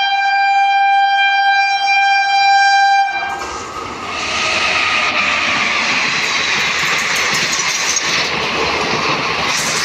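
An Indian Railways Ranikhet Express with ICF coaches and a WAP7 electric locomotive sounds a loud, sustained multi-tone horn, then thunders past with a continuous close rumble and clatter of wheels at Sojat Road.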